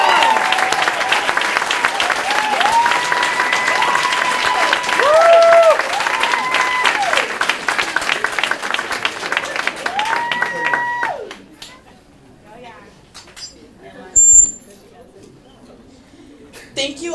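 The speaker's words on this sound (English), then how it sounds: "so we can give y'all a round of applause" An audience at a Palatka High School Jobs for Graduates induction ceremony applauds students who enlisted in the Army or were accepted to college, a loud, sustained wash of clapping with voices mixed in that dies away after about eleven seconds.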